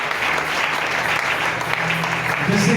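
A church congregation claps loudly and steadily, a dense continuous round of applause from a large crowd that carries evenly throughout.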